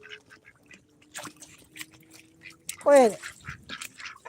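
Ducks scuffle as one holds another's head underwater on a farm, with a single loud, harsh quack burst amid splashing, while a person speaks sternly nearby.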